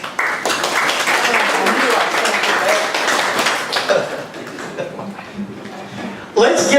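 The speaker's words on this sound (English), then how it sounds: "Let's give them another big round of applause." Audience at a county trustee candidates' event applauds the candidates, dense clapping running steadily for several seconds, then thinning out before a brief louder burst at the end.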